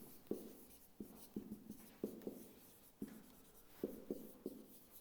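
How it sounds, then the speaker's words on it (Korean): Chalk or marker tapping and scratching out Latin words on a board during a philosophy lecture, a series of short irregular strokes in clustered bursts, close and fairly quiet, with no talking. "크리스툼 데이 라틴어로 써볼게요"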